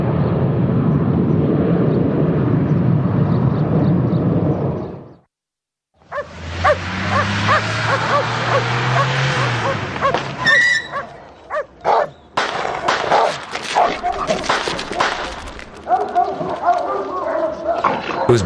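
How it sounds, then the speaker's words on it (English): Drug-sniffing dogs at a customs exercise near the Uzbekistan border bark in scattered yips and barks, loud and close, alongside talk and a steady background roar like aircraft or engine noise. "This is an exercise for drug-sniffing dogs."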